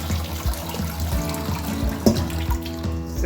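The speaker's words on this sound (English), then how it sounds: "Still draining the water" Water draining and trickling from washed cassava for akpu mmiri, a close, steady splashy flow with a few small knocks, quiet and without speech.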